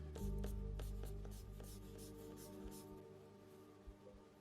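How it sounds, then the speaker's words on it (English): An eraser rubs lightly across paper to remove pencil guidelines from an anime character sketch, giving a close, soft series of scratchy strokes that taper off. "we're going to go back and lightly erase some of these guidelines"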